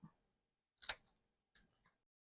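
A single crisp snip of scissors cutting cork plank material for a plant, near and isolated, followed by a couple of faint small clicks in otherwise quiet surroundings.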